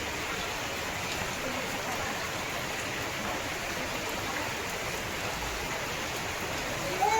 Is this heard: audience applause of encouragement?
no